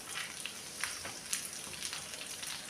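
Garlic and onion frying in oil for a Madurai-style thani chutney, a steady soft sizzle with faint crackles and pops, close and even throughout without talk.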